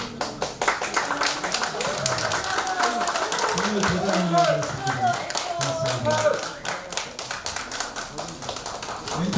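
Scattered clapping from a small group at a poetry-painting exhibition mixes with overlapping voices talking and cheering, the claps irregular and fairly close.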